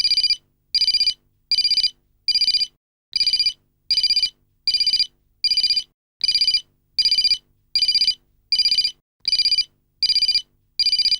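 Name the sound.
phone ringing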